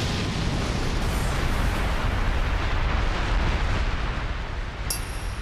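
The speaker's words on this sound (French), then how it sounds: "explosion dévastatrice de Lion!" A sustained, roaring cartoon explosion blast from a Beyblade Metal Fusion special attack fills the whole stretch, loud and rumbling without pause, ending with a brief bright crackle.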